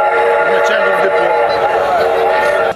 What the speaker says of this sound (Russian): Третий год подряд мы демонстрируем этот паровоз, который гудит, у которого крутятся колеса.